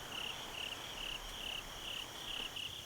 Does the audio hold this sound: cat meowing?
no